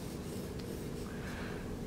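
A pencil drags softly across paper, making marks while sketching a game controller, with a continuous low scratchy rub up close and no talk.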